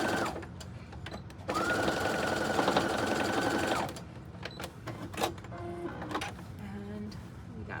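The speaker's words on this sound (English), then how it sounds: "I'm gonna back stitch at the front and back again." A sewing machine back stitches a tote bag seam, starting and stopping in short bursts and then running steadily for a couple of seconds with a humming whine, surrounded by quieter clicks and handling noises.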